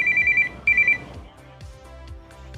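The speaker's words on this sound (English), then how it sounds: "I'm getting a phone call." A phone rings loud and near, two electronic bursts in a row, then stops, leaving low background sound.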